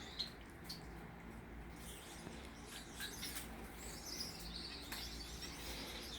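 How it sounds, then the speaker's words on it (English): Male finches singing in an indoor bird room, a faint, steady stream of high, thin chirps and twitters over a quiet background. "you see how the males are singing non-stop. That's them singing."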